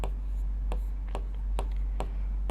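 Pen or chalk tapping and stroking as a maths solution is written out, five short sharp strokes at roughly even intervals over a steady low hum, close, no speech.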